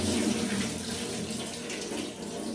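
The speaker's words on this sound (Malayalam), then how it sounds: "എന്തായാലും പച്ചരി ഒന്ന് കഴുകി എടുക്കണം" Running tap water pours steadily as soaked raw rice is washed under it at a kitchen sink, a close, even splashing rush that stays constant throughout.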